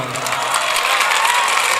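Applause at a mushaira poetry recital in Sambhal: a dense, steady wash of audience clapping that holds loud and even throughout, with no voices over it.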